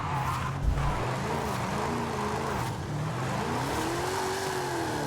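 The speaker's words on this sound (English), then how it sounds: "This drift is awesome." A 2010 Ford Crown Victoria Police Interceptor drifts in Forza Horizon 5, its engine droning steadily while the tires hiss and squeal in a long slide, with a rising whine near the end.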